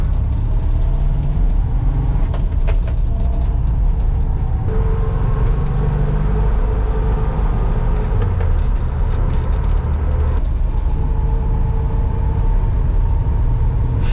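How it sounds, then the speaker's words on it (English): A Volkswagen T2 van engine runs at a steady idle throughout, a loud, continuous low rumble with an even mechanical hum and no talking. "the van starts easily and idles nicely"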